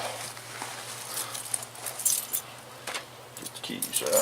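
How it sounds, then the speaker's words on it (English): Car keys for a 1984 Chevy K20 pickup jangling close by in scattered small bursts over a low steady hum, with some talk mixed in. "Get the keys out."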